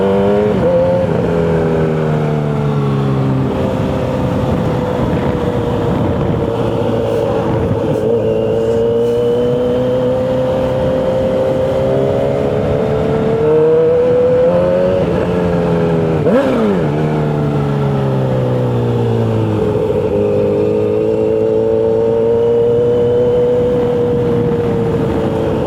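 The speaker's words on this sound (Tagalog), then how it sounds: "Dami nagpapabomba." Loud, close vehicle engines at a riverside camping resort rev repeatedly for a long stretch, the engine note sweeping up and down in pitch without a break.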